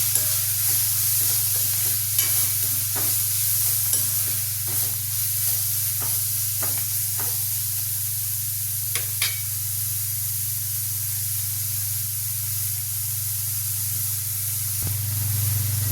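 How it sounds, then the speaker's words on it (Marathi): Fenugreek leaves with salt sauté in a pan, giving a steady close sizzle under a low constant hum, with occasional scraping stir taps throughout. "मेथी छान परतून घ्यायची"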